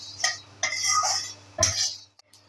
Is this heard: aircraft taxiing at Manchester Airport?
no